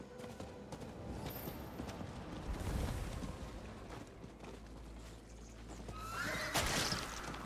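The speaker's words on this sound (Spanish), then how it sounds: "Vamos a caballo." Horse neighing in Diablo IV, a loud whinny rising near the end, with hoofbeats and game ambience running underneath throughout.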